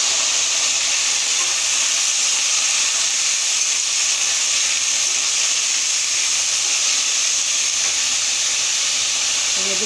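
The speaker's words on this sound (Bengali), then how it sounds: "এবার ওর মধ্যে দিয়ে দেবো বিট গাজর, কুচিয়ে রাখা বিট গাজরটা দিয়ে দেবো।" Chopped beetroot and carrot sizzle steadily in a frying pan, a dense continuous hiss of moisture hitting hot oil, close and even throughout with no talking.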